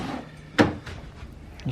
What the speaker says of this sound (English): Alright, open up the door.